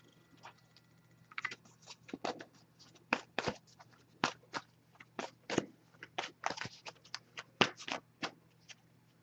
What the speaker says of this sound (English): I'm going to give this a few shuffles, then we'll cut the deck and pull a card